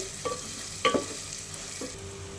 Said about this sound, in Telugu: ఇవన్నీ కలుపుకోవాలన్నమాట. దాంట్లో కలర్ వచ్చేంత వరకు వేపుకోవాలి.